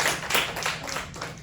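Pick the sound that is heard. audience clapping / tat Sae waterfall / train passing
audience clapping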